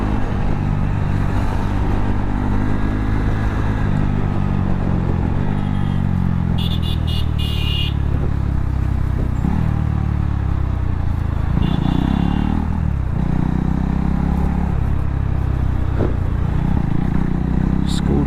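Scooters and motor vehicles pass through city traffic in Visakhapatnam, a steady engine drone with passing swells and occasional horn-like tones, with people talking over it throughout.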